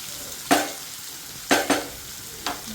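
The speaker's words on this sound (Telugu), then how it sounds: "త్వరగానే వేగిపోతుంది ఆనపకాయ." Bottle gourd fries in a pan with three or four distinct scraping stirs of a spoon over a faint background sizzle, close and fairly loud, with no voices.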